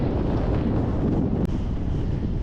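A strong wind blows at Maringo Beach on the NSW South Coast, a loud, steady roar buffeting the microphone from start to finish with no voices.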